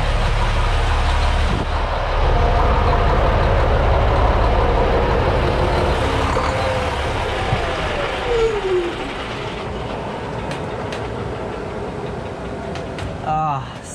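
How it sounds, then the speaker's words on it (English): A boat's engine drones loud and steady at sea, with low rumble and broad noise, fading and easing toward the end as it is switched off, followed by quieter sounds and a few clicks. "now is the magical moment where I can turn off the engine"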